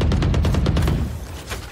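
Valorant gunfire aimed through the walls of a building rattles out as a fast string of loud, close shots, then trails off into a brief lull with one more faint crack.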